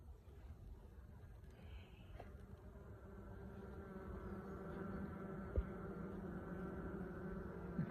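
A continuous droning buzz from a colony of fairly uniform dark honeybees around an opened hive, steady and close, with a couple of faint knocks.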